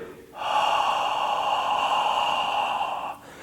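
One long, breathy ujjayi breathing exhale through a constricted throat, a steady raspy hiss lasting about three seconds, close and clear, with no speech.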